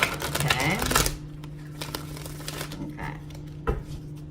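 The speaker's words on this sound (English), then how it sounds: "I'm going to shuffle these guys because it's a newer deck and they're really stiff" A quick riffle of a new, stiff deck of cards ripping through for about a second, followed by a few soft taps and light handling.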